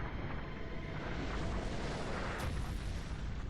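Drop pod slamming down in the XCOM video game, a dense continuous roaring rumble with heavy low end, sustained and loud throughout with no talk.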